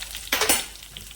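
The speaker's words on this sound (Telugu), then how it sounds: "కాస్తంత కరివేపాకు, చక్కగా దీన్ని వేగనిస్తున్నాం" Curry leaves hitting hot tempering oil for a chutney, a short burst of crackling sizzle that flares and then settles back into a faint background fizz.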